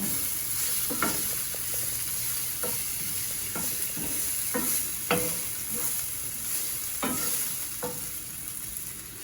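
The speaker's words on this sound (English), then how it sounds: "I will saute them for about a minute or so" Food sautéing in a salted pan gives a steady close sizzle, broken by periodic scraping strokes of a utensil stirring against the pan.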